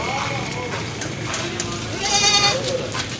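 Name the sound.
goat bleating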